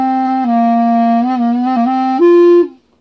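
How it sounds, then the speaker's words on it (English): Clarinet sounding a steady sustained tone that wavers and then jumps to a higher pitch before cutting off, loud and close with no voice, the kind of squeak that comes from holes left uncovered. "And if you have a squeak like this."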